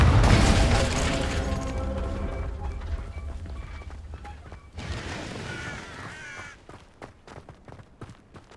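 A Confringo fire spell explodes in the Hogwarts Legacy video game: a loud, booming blast opens and slowly decays, a second burst rumbles midway, and scattered crackling pops trail off toward the end.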